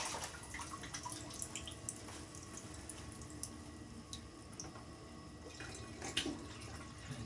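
Cider being poured into a Youngs Brew Buddy 40 pint fermenter, a steady quiet trickle with scattered drips and splashes and faint background clatter throughout.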